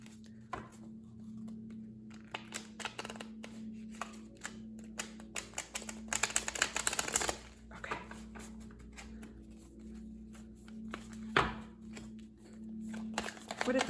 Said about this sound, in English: The cards don't shuffle well in the way that I'm doing them.